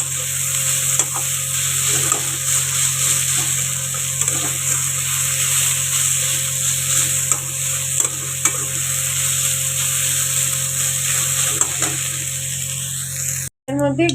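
Greens stir-fry in a pan with fried lentil bori, a tempering of black cumin and dried red chilli, and salt and sugar. A constant loud sizzle runs under repeated scraping strokes of a spatula, with a brief clatter near the end.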